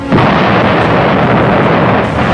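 A nuclear bomb detonates in Fallout 76, a loud, sustained roaring blast that fills the whole stretch with dense rumbling and crackle, with no pauses or voices.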